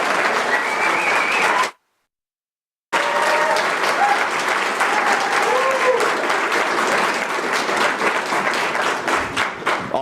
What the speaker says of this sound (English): I think we all owe a round of applause to Senator Mike Crane and Tracy